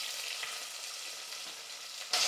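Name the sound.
sliced onions added to hot oil, frying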